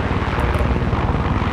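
Helicopter in the video game Far Cry 6, a loud, steady rotor drone with rapid blade chop filling the whole stretch, close and continuous with no talk over it.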